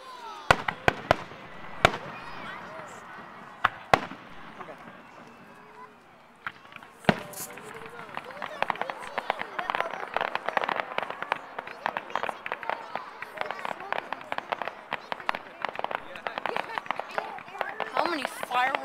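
Fireworks at an outdoor public display in Clement Park, South Jeffco, with scattered sharp bangs early on and then a dense crackling barrage of rapid pops at moderate distance, while people talk nearby.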